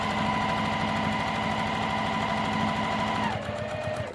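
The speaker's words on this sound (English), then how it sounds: "we're just going to start sewing right from this edge" A sewing machine stitching quilt binding on a small mug rug hums loudly and steadily up close, its rapid even needle rhythm holding at one speed before slowing and winding down at the end, with no talking.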